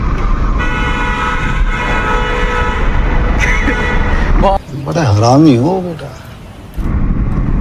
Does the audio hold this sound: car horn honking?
yes